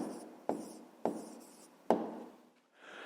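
Pen writing an answer by hand on paper, a few short scratchy strokes separated by sharp taps, close and quiet with no talking.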